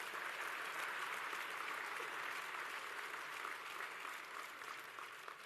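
Sustained crowd applause for competitors and medalists at a closing ceremony rings out evenly from a distance and fades slightly toward the end, with no speech over it.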